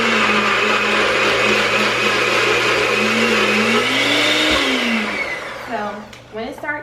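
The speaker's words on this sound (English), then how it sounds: "we're gonna blend this up" Kitchen blender pureeing homemade baby food with formula, a steady loud whirring motor run that holds for several seconds and then winds down, with a few scattered words heard as it ends.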